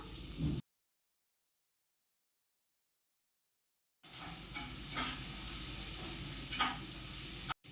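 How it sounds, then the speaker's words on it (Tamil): Onions and green chillies sizzle and hiss in a hot pan while being stirred for a chicken gravy; a brief burst of frying, a few seconds of total silence, then steady sizzling with occasional stirring scrapes. "வேப்பிலை வெங்காயத்தை போட்டு நல்லா வதக்கிக்கிறணும்"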